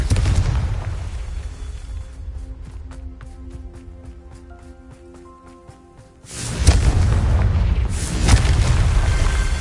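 A Confringo spell explodes in Hogwarts Legacy, with a loud booming blast and rumble at the start and a second heavy burst later, separated by a quieter stretch of tonal game music.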